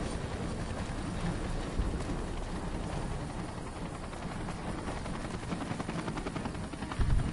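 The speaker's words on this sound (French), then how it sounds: "Un avion hélicoptère." A helicopter in Fallout New Vegas drones with a low, chopping rotor thump, a steady mid-distance rumble that swells slightly near the end, with no talk over it.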